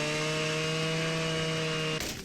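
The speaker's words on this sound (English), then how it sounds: "But with a chainsaw" A chainsaw in the video game Rust cuts through wood with a steady, loud droning buzz that holds constant and then cuts off abruptly near the end.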